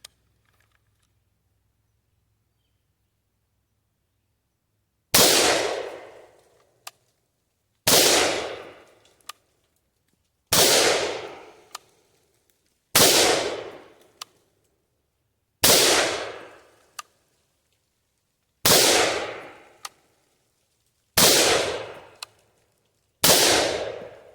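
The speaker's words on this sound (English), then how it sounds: "I'm just shooting into the berm." A rifle fitted with a PSA 3.5 lb match trigger fires M193 rounds into a dirt berm. Eight loud, sharp single shots ring out, each spaced a few seconds apart with a ringing decay after a quiet start.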